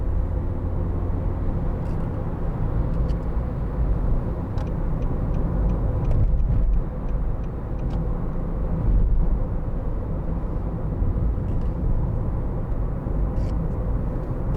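A 2013 Nissan Note 1.5 dCi Acenta Premium diesel drives at speed with a steady, loud low engine drone and road roar filling the cabin, easing briefly during a gear change, with no talk.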